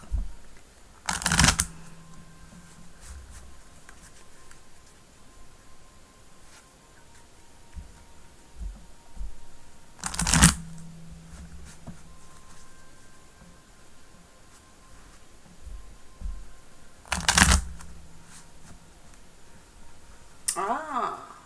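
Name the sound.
shuffling tarot cards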